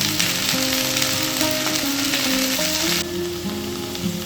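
Okra (bendakaya) frying in a pan over a medium flame for a restaurant-style fry, giving a loud, steady, close sizzle with faint stirring scrapes and no voices.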